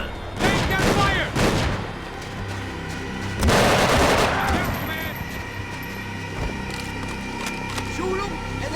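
Gunfire in the video game Max Payne 3 crackles in loud bursts with booming shots and a heavy blast near the middle, mixed with game music while characters shout over the fighting.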